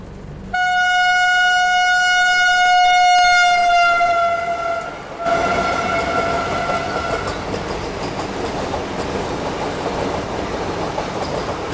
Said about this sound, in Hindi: सामने से ये आ रही है रीवा रानी कमलापति वंदे भारत एक्सप्रेस